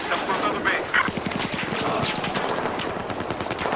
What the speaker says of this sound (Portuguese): Os tiros. É tiro.